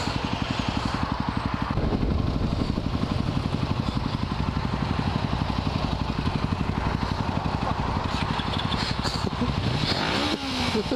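Motorcycle engine running steadily at close range with a continuous rhythmic idle-like throb, loud throughout, with faint voices in the background and the engine note fading slightly near the end during a group street ride.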